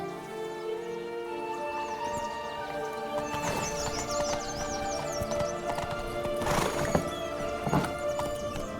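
Roach, Geralt's horse in The Witcher 3: Wild Hunt, gallops with steady, close clip-clop hoofbeats and lets out a couple of neighs, with faint birdsong in the background.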